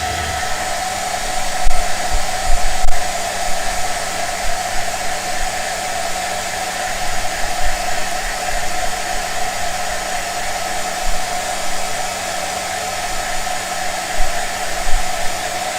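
A hair dryer blows continuously at close range, a loud steady roaring whoosh with slight fluctuations, drying PVA glue on a Warhammer 40K Deathwatch Corvus Blackstar model build; no voices.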